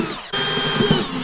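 Power drill boring two holes for fan cables, a steady close whine that runs continuously after a brief gap near the start, with no talking.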